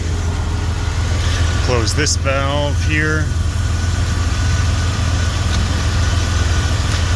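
A Jeep Grand Cherokee 4.0 engine idles with a steady, low, continuous rumble throughout, while someone speaks briefly over it near the start.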